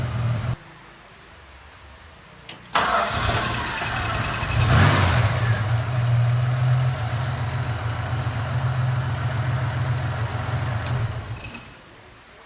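A VH Valiant Charger engine turns over on the key and settles into a loud, steady idle with a brief rise in revs, then cuts off near the end.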